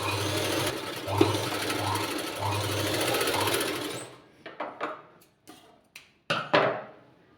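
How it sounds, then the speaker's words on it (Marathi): A sewing machine stitches a quarter-inch folded hem on fabric for a puffed sleeve, running in steady bursts near and loud, then breaking into short stop-start stitching runs separated by brief pauses. "या प्रकारे मी पाव इंचावरती फोल्ड करून टिप मारून घेणार आहे"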